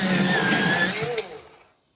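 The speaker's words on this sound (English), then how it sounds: "Just got my electronic sharpener here, and I'll just give everything a quick go." An electric pencil sharpener grinding an Arrtx colored pencil, a brief loud close whir with a rising whine that cuts off and fades to silence within two seconds.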